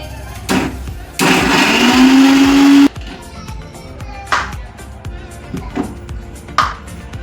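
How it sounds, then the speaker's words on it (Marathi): A kitchen mixer-grinder whirs loudly in one steady burst of under two seconds, blending ginger, garlic and onion into a paste for fish curry, followed by scattered light clicks and taps. "अद्रक लसूण कांदा त्याचप्रमाणे आपलं हे पूर्ण वाटून आपलं बारीक केलेलं आहे"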